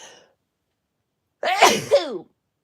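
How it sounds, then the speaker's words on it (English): A single loud, close sneeze bursts out after a moment of silence, preceded by a brief faint breath. "try not to sneeze on my project"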